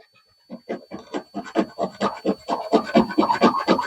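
A metal file rasping back and forth on a high bass guitar fret in quick repeated strokes, close and fairly loud, gaining pace.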